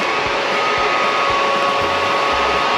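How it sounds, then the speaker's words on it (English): A loud welder runs in a workshop during tubing and beadlock fabrication, giving a steady, unbroken mechanical drone with a faint electrical whine and occasional low thumps. "I'm gonna turn this welder off real quick because it's loud."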